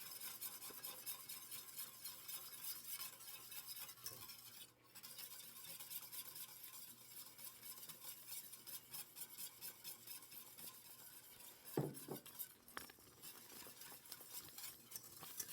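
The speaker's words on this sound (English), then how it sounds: "now I'm going to whisk in the mixture of flour and brown sugar" Flour and brown sugar are whisked into an apple mixture for a 1938 apple scotch pie, giving a quiet, steady scraping and stirring sound with a few sharper clinks near the end.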